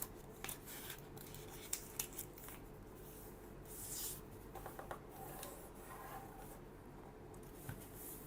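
Paper being folded into a kite shape for a finger puppet, with soft rustling and rubbing creases plus a few light taps, faint and close.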